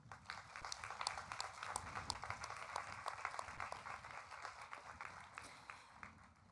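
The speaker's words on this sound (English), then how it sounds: "Graduates, let's give a round of applause to the people who have supported you" Faint, steady applause from a crowd at an Oswego East High School graduation ceremony, honoring graduates' families and supporters, with scattered distinct claps in a large space.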